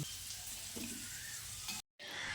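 Potatoes fry in hot oil as they are lifted out, a soft, steady sizzle that cuts out briefly before resuming.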